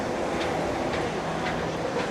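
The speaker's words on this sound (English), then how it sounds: "Ooh, monorail." A monorail train passes at EPCOT outdoors, its steady rumble and faint rhythmic clicking running continuously at moderate distance with no talk.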